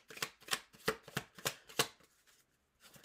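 Tarot cards being shuffled for a card reading: a quick run of about six crisp riffling bursts in a steady rhythm, close and fairly quiet, then settling into near silence.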